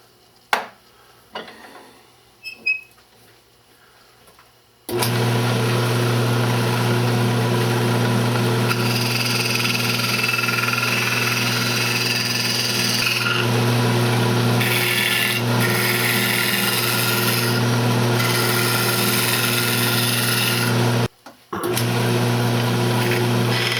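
Wood lathe spinning a myrtle wood vase, a steady loud hum with scraping and sanding texture running continuously after a few quiet knocks, briefly cutting out near the end.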